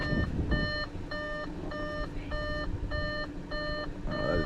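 Repeated electronic beeps from inside an Audi S4, a steady series of short evenly spaced tone bursts over a low background rumble, fairly close and clear.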